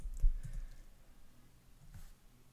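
A handful of close, light keyboard clicks as a command is typed at a terminal, a quick cluster at the start and another tap near the end, quiet and without speech.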